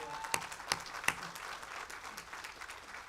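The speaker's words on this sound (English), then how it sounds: "Let's take a round of applause for all the hard work" Applause breaks out at a doctoral hooding ceremony, opening with a few sharp, distinct claps before settling into a softer, steady patter from a modest audience, heard at moderate distance.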